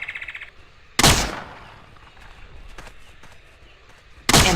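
A Swedish-made Lindstrap gun fires in the game Trespasser, two loud sharp single shots several seconds apart, with faint clicks and handling noises between them.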